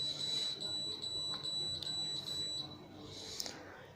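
A Hannochs 20W UVC ozonizer lamp being switched off gives a rapid string of evenly spaced high electronic beeps, clear and fairly close over a faint room background.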